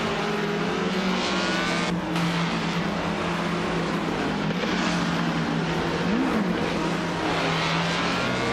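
A 1958B RMP 25 prototype race car's engine drones loudly and continuously on track, with gear shifts and brief pitch swings as it revs, other racing cars mixed in.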